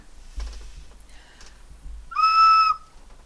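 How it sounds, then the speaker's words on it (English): A toy bird whistle ornament on a Christmas tree gives one clear, steady shrill tone lasting about half a second, after a few soft rustles and taps. "See, that is a whistle."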